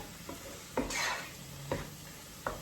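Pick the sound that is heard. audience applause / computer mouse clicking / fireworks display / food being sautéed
food being sautéed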